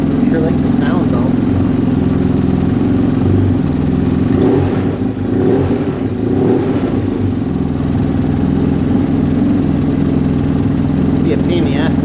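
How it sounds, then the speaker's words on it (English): A car engine idles with its catalytic converter removed, a loud, close, deep droning rumble that runs unbroken and throbs slightly throughout. "I sure like the sound though."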